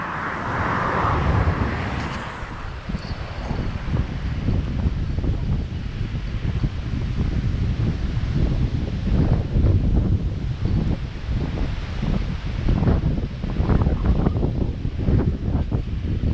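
Strong wind buffets the microphone at a riverside catfish fishing spot, a loud, continuous roar with gusty rumbling and no talk.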